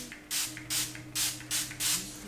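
A Farsali Rose Gold Skin Mist spray bottle gives five forceful, evenly spaced bursts of hissing mist, close and crisp, with brief quiet gaps between pumps.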